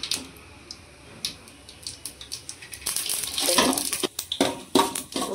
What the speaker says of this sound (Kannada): ಸಾಸಿವೆಯನ್ನು ಸೇರಿಸ್ಕೊಳ್ತಿದ್ದೇನೆ.